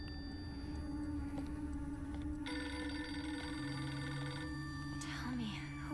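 In the video game Clair Obscur: Expedition 33, a telephone rings with a repeated electronic trill, set against sustained tonal drones and a low hum, at a faint level.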